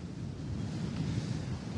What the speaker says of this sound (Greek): έχει αγριέψει θάλασσα, Νίκο.